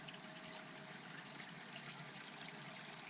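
A small spring trickling out of a hillside at Hogs Hollow in Dinosaur National Monument, a steady, soft watery hiss that runs unbroken throughout with no voices.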